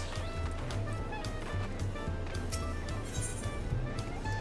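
A bird let loose in Final Fantasy XIV gives goose-like honking calls over a steady bed of in-game background sound.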